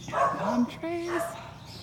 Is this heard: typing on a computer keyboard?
no